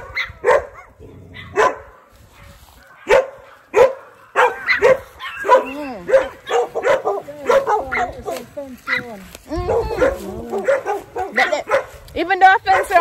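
Big dogs on a farm in Jamaica bark in loud, close bursts, spaced at first and then coming faster, while people talk over and between the barks.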